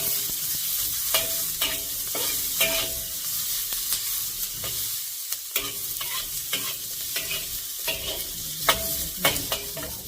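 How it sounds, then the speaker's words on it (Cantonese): Onions sizzle steadily in a hot pan over medium-low heat while a utensil scrapes and stirs at irregular intervals, the clatter popping up every second or so. "中慢火保持，因為洋葱要慢慢爆香佢啲味出嚟"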